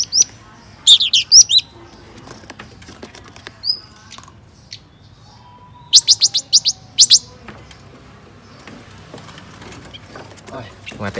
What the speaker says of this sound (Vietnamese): Cái này chắc em nó chim hỏa tiễn.